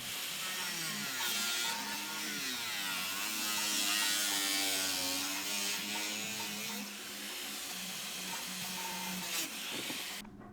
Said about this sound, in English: Time to start cutting the side panels away from the original bumper cover.